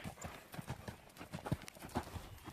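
A horse canters on a long line, rhythmic hoofbeats thudding clearly in repeated three-beat strides on soft ground, close by, with no talk.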